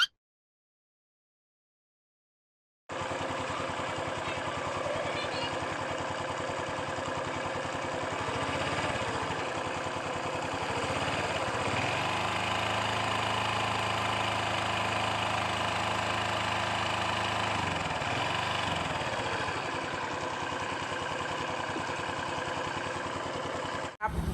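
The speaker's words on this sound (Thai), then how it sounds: "มีเสียงดังในเครื่องยนต์ดัง กระกักกระกักนะครับ" A running car engine with engine knock idles steadily with a rough, rhythmic ticking knock beneath its drone, continuous and close after a brief silent start.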